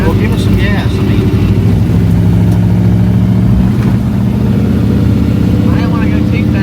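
A 1984 square body pickup truck's engine runs loud and close, a deep rumbling drone that swells with throttle, while people talk over it.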